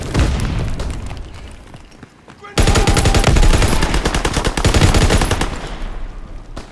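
A Type 100 submachine gun fires in Call of Duty: WW2, a World War II shooter, in loud rapid automatic bursts that pause briefly and then resume as a long, dense rattle.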